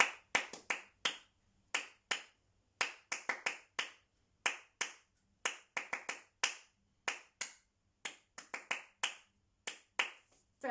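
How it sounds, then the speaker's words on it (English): A single person claps a syncopated rhythm in a music lesson, crisp sharp hand claps in uneven groups with short rests, close and clear against silence, with no voice over them. "Now let's say it in our heads but still clap it out loud."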